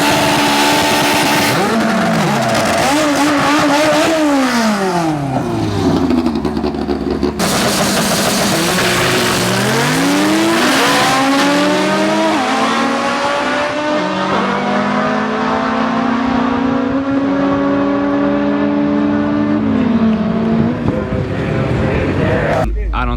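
An Acura RSX race car accelerates hard down a drag strip at an import face-off event, its engine climbing and dropping through several gear changes in loud, rising sweeps, with faint voices underneath.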